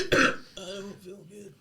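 A single deliberately faked cough, one short harsh burst at close range followed by a brief strained vocal sound.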